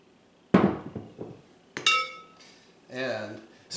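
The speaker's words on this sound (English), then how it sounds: "then scrape the dough onto the floured board." Scone dough scraped from a bowl onto a floured board, heard as a few sharp clinks and knocks of utensil against bowl, separated by short pauses.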